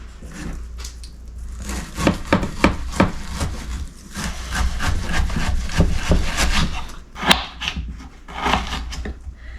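A knife cutting partly frozen moose meat, producing a series of close, gritty scraping strokes in uneven rhythm with occasional sharper knocks on the board; no talking.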